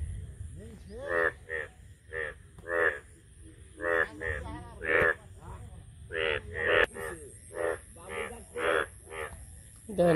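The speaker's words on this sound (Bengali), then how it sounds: "আমি আপনাদের একটু ব্যাঙগুলা দেখাই" Frogs croaking around a village in the morning, a series of repeated, throaty calls in uneven rhythm, fairly close and moderately loud against a quiet background.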